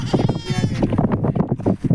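A flock of sheep and goats bleats in the Kuwait desert, with many overlapping calls close by in a busy, continuous chorus and no clear pauses.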